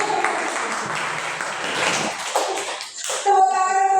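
A group claps for a participant named Bu Wida during a school teachers' session at a junior high school, a dense steady patter of hands that fades out as a voice begins speaking over the tail.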